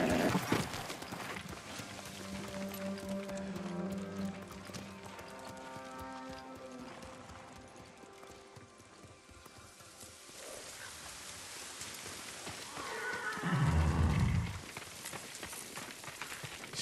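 A horse in Ghost of Tsushima gallops with rapid, rhythmic hoofbeats that fade and swell, then lets out a loud whinny near the end, with rain softly in the background.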